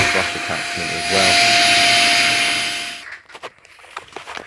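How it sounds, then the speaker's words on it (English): A vacuum cleaner sucks lint out of a Bosch condenser tumble dryer's condenser, a loud steady whine for about three seconds before it cuts off, followed by scattered clunks and handling noises. "we just go in with that vacuum cleaner, sucking all the bits out"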